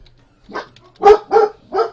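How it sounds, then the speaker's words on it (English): Several loud dog barks close by, four separate bursts over about two seconds with short pauses between them, the later three strongest and evenly spaced, during an X-Wing miniatures game session. "Oh, dogs, dogs. Don't need to bark so loud."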